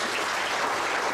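A church congregation at a worship service claps in a brief, dense burst of applause, steady and fairly loud, with no voices.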